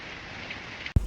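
Rain falls in a steady, soft hiss for about a second, then a sudden low thump breaks in at the very end.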